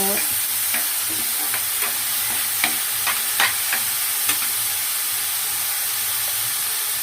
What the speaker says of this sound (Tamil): கருவேப்பிலை கொத்தமல்லி கொஞ்சம் போட்டுக்கோங்க. கொஞ்சம் வதக்கிக்கோங்க.